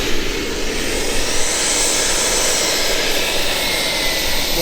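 Loud, steady whine and roar of a Sebart Mini Avanti model jet's turbine engine, a continuous broadband jet rush held at close range throughout.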